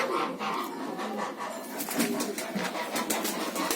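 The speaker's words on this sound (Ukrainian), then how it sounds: "Голуби, голуби." Pigeons at a farmyard in Cornești, Cluj County, Romania, coo softly amid a busy mix of bird calls and rustling, moderately close, with some speech-like sounds around.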